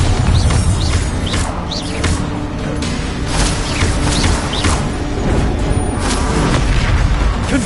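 Repeated heavy magical blasts from the Bombarda spell in Hogwarts Legacy, booming crashes and bursts one after another amid dense, loud game combat noise.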